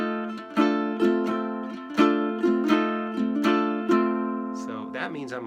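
A ukulele plays a rockabilly boogie strum in F, alternating between the fretted note and the open string, with steady rhythmic strums and a brief lighter figure at the end.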